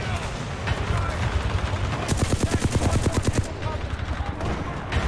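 Rapid automatic gunfire from the shooter game Titanfall 2, a steady burst of closely spaced shots lasting over a second, with scattered single shots and game noise around it.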